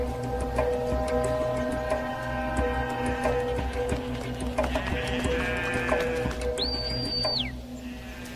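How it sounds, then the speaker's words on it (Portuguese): A herd of goats bleats as a goatherd moves them along, several wavering calls rising over a steady outdoor background, with one clear, drawn-out bleat standing out near the end. "O pastor de cabras movimenta seu rebanho."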